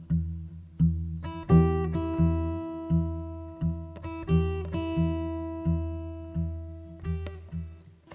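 Acoustic guitar picking exercise combining the thumb on a bass string with finger-picked notes on the first string, a slow, steady pattern of plucked notes ringing clearly and alone.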